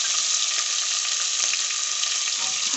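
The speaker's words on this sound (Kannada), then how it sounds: "ಇವಾಗೆಲ್ಲ ಒಂದೊಂದೇ ತರಕಾರಿ ಹಾಕ್ಕೊಂಡ್ಬಿಡಿ" Vegetables such as carrot and onion sizzling in a hot pan for dal khichdi, a steady bright hiss of frying close up with no talking.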